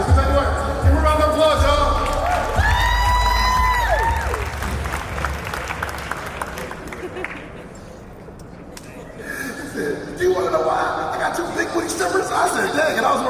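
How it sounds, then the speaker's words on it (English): Live audience at an investment festival speech breaks into applause and cheering, a loud crowd wash with whoops over music, fading in the middle before clapping swells again. "Give me a round of applause, y'all."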